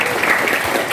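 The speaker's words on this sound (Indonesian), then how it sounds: "Sekali lagi beri tepuk tangan ke Bapak." Brief burst of applause from an audience in an Indonesian teacher training session, thanking presenter Pak Yogi; dense clapping, fairly close and loud, lasting under a second.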